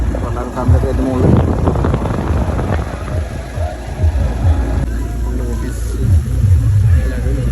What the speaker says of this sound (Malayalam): നല്ല കാറ്റുണ്ട്, നല്ല കാറ്റുണ്ട്.